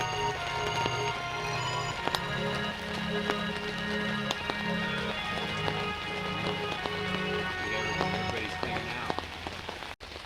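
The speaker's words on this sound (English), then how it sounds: "This is what happens when Willow can't come out for the rain" Steady rain patters continuously on a surface in Zion, with scattered sharper drips standing out against the dense, even hiss.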